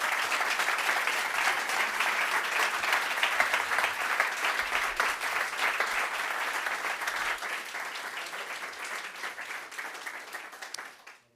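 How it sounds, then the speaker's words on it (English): A conference audience at a studio stage gives sustained applause after a talk. The dense, even clapping carries on steadily for about ten seconds, then tapers off and stops. "this is your applause."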